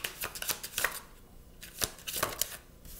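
Tarot cards shuffled and drawn by hand, a run of soft riffling flutters and light slaps in quick irregular bursts, close and fairly quiet, with no talk.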